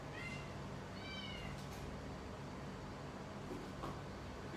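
Cats meowing, several short rising mews early on and another faint one later, over a steady hum of household background noise, fairly quiet and with no talking.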